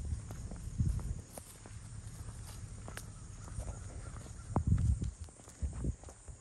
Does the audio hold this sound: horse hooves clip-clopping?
yes